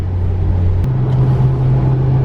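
Steady low engine rumble of a car being driven in very bad weather, with a constant droning hum and a slight shift in pitch partway through, close and continuous with no talking.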